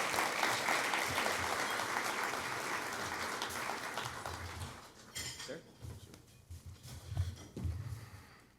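Applause from an audience at a city awards ceremony honoring fire chiefs, dense clapping that fades after about five seconds into scattered claps and room noise.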